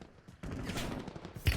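Burst of gunfire in the battle royale game Warzone, a dense rattle of shots with a loud crack near the end, mid-distance and alone.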